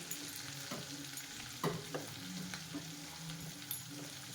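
Salted potatoes frying in a pan, a quiet steady sizzle with a few clinks and scrapes of stirring, nearby and alone.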